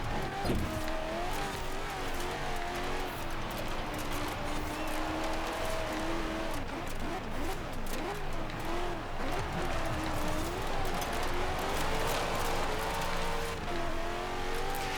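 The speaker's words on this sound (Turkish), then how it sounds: "Bu tarz araçlar normal yolda bile acayip drift yapıyor" A car in Forza Horizon 4 drifts, its engine revving and whining continuously while tires squeal and skid through slides, steady and fairly loud, with faint talk underneath.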